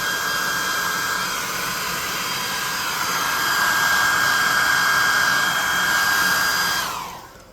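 A hair dryer blows steadily on a freshly painted dirt-textured base of a tabletop RPG miniature, a constant whooshing hum with a high whine that holds for about seven seconds, then cuts off.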